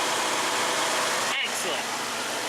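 Two radiator cooling fans on a 2004 Infiniti FX35 spin together, giving a steady broadband whoosh and hum, with a short break partway through.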